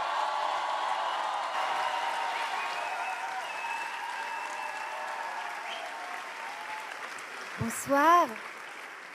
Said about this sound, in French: un tonnerre d'applaudissements pour Guédré